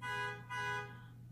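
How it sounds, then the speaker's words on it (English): A car horn honks outside in two sustained, buzzy blasts with a slight gap between them, moderately loud over a low steady hum, with no talking. "Why are they honking that horn?"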